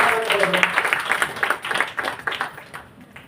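Audience applause at a Tamil Kavimalai poetry gathering in Singapore: a dense, continuous patter of many hands clapping with uneven surges, fading slightly toward the end.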